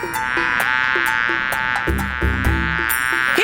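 A bee buzzes steadily and close by, a continuous whining drone that runs over rhythmic background music and soft thumps.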